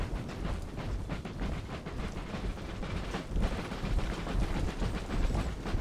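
Musket volleys crackle in a battle in the game Empire Total War, a dense, sustained rattle of overlapping gunfire with heavy low rumble, loud and continuous throughout.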